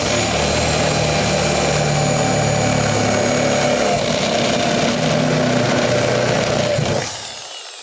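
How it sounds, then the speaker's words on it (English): A large bit on an electric drill grinds through the roof of a 2019 Peugeot Boxer van in a loud, continuous whine with harsh metallic rasp. It cuts off abruptly near the end, and no one speaks. "that's the first hole now done with the larger drill bit"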